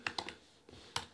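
Close, crisp keystrokes on a computer keyboard: a quick burst of three taps, a short pause, then two more clicks, with no voice.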